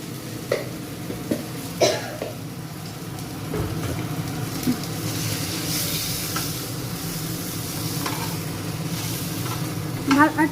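Pepper and black salt frying in a hot pan over high heat, a steady hiss running throughout with scattered clicks and a few brief louder crackles, voices talking intermittently alongside.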